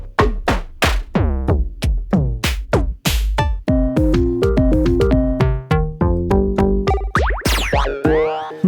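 A Novation Bass Station II synthesizer in AFX Mode plays a string of different patches in quick succession: sharp plucky hits with falling pitch sweeps, then sustained bassy tones and a warbling glide at the end, loud and alone.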